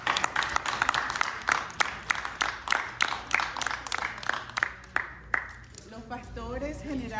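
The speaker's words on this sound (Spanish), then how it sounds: "Un aplauso fuerte al Señor" Church congregation applauding, a run of sharp rhythmic claps that thins out as a voice speaks over it toward the end.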